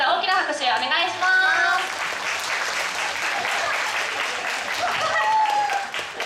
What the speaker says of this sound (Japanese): もう皆様に最後にもう一回大きな拍手お願いします